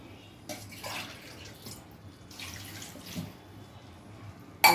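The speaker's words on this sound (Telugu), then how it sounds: "కొంచెం సాల్ట్ వేసుకొని 2 గ్లాసులు వాటర్ పోసుకోవాలి." Water poured from a glass into a pot of washed konaganti leaves with salt, two soft bursts of splashing pour close up, then a brief sharp knock at the end.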